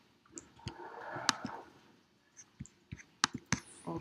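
Computer mouse clicks in Android Studio, scattered single clicks and quick pairs, close and crisp, over a quiet background with no talking.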